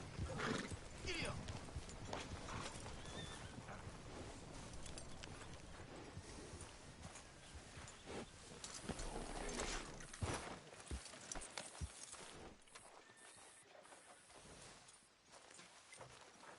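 Horse hooves clip-clop steadily in Red Dead Redemption 2, faint and mixed with game ambience and brief voices.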